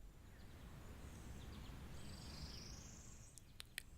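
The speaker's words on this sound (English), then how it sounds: "some distant birds, and some birds that are really close by" Quiet nature ambience loop with a steady bed of insect buzz, faint distant birdsong drifting through, and a few sharp close bird chirps near the end.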